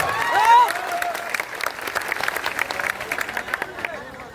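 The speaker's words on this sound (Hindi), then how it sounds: "एक बार हम चाहेंगे कि इन सभी लोगों के लिए एक ताली होना चाहिए हमारे तरफ से।" Clapping breaks out in an audience at a motivational quiz event in Sasaram, starting after a brief voice and settling into a lively, fairly close patter of many hands with crowd murmur mixed in.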